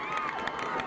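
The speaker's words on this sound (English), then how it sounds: "Crowd over here exhorting the defense to do its thing" A high school football crowd at Upper Dauphin versus Halifax roars continuously from the stands, urging on the defense, a dense sustained cheer with mixed shouting voices at moderate distance.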